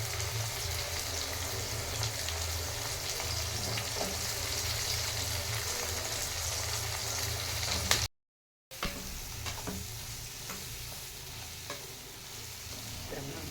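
Slices of brinjal fry in hot oil, a steady soft sizzle with scattered crackles and stirring taps, briefly cut off by a moment of silence before the frying carries on.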